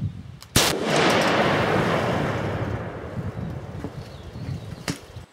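A single loud blast from a Remington 700P rifle in 338 Lapua Magnum fitted with a Hudoo muzzle brake, a sharp crack followed by a long rumbling outdoor echo that slowly fades under light wind.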